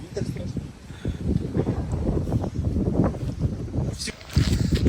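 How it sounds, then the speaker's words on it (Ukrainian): Gusty wind roars and buffets the microphone in steady bursts, with voices talking over it and a louder gust near the end. "Боже, який вітер."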